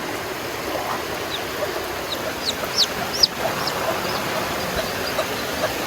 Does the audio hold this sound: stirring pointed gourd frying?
no